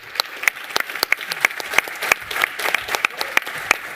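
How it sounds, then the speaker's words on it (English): Applause from a small audience at a live show during the Codegarden 2022 developer conference, with sharp distinct claps repeating at a steady beat, fairly close and moderately loud, with no voices over them. "Big round of applause for these guys,"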